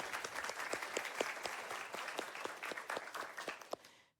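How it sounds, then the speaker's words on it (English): An audience at a live finale event applauds steadily for about four seconds, a dense patter of many hands clapping at a moderate distance before it stops abruptly. "let's give all of them a round of applause"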